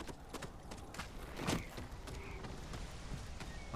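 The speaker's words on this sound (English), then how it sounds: "Horse. My lovely horse running through the fields." Horse hooves clatter in a steady clip-clop as a horse runs across open fields in the Ghost of Tsushima video game, a moderately close, continuous rhythm with no talking over it.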